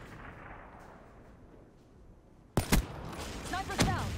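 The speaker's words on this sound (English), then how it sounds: "Sniping. I'm trying to get some sniping clips, dude." Sniper rifle shots in the Call of Duty Black Ops 3 video game: after a quiet stretch, two sharp loud cracks, then another blast with game effects, close and prominent.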